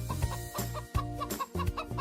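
Close, repeated clucking of cartoon chickens in quick bursts, in a children's cartoon, with a faint musical backdrop underneath.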